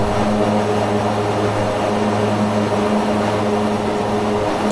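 A Mitsubishi MU-2B-60 turboprop drones steadily in a flight simulator, its propellers and engines giving a constant, loud hum with tonal layers while flying a left downwind approach.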